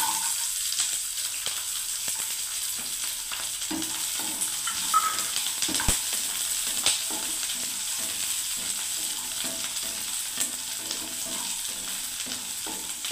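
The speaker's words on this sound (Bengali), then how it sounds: "এবার আমি রসুনগুলোকে ঢেলে দিচ্ছি ভর্তা বানাবার জন্য বন্ধুরা" Garlic for garlic bharta sizzles and fries steadily in hot oil, a continuous crackling hiss with occasional stirring clicks and scrapes, close and fairly loud throughout, with no talking.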